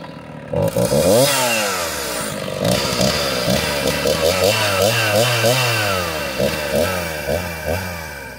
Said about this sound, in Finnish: Eli tämä on se huutokauppasaha.